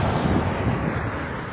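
Strong wind blows steadily across a dusty camp, a continuous broadband roar buffeting the microphone with no speech.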